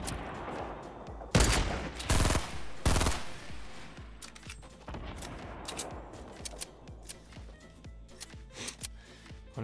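Rapid bursts of Fortnite gunfire, several loud volleys early on, then scattered sharp shots and clicks continuing through the stretch, close and punchy with no voices.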